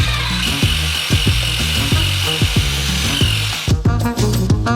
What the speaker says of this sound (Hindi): एक कंस्ट्रक्शन मिक्सर से हम मिश्रण करेंगे।